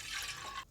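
A short, quiet splash of water being poured into a cooking pot to brew an Ayurvedic herbal kadha, a soft hissing stream that cuts off abruptly.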